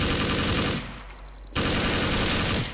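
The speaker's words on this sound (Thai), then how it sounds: "เสียงปืนขวามือครับ ซ้ายมือก็มี" Rapid bursts of automatic gunfire from a SIG551 rifle in the game Special Force, loud and close, cutting out briefly before another sustained volley resumes.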